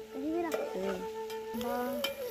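Tomato and spring onion greens roast in a pan in a village kitchen, with a few sharp stirring scrapes and clanks over a faint background and a tonal, voice-like sound behind.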